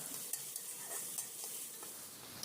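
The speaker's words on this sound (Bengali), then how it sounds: "এখন রসুন আর পেঁয়াজগুলোকে হালকা বাদামি করে ভেজে নিচ্ছি" Chopped garlic and onion fry gently in a pan until lightly browned, producing a quiet, continuous sizzle with soft intermittent clicks of stirring, close and without any voices.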